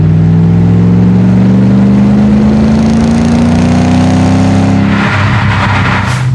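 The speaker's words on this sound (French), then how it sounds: "Au moins vous pourrez voir le son de l'arrière de la voiture et la voiture avec en troisième" A car fitted with a new exhaust drives in third gear on country roads, its loud engine drone rising steadily in pitch as it accelerates, then shifting and revving again near the end, heard close from the rear with no talk.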